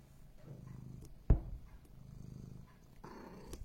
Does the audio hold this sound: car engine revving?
no